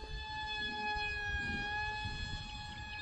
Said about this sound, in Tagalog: Bakit may alarm?